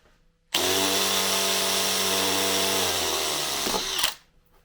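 A power drill drives a screw into a pen-marked hole, its motor whining steadily at high speed for about three and a half seconds, close and loud, then dipping under load before stopping abruptly.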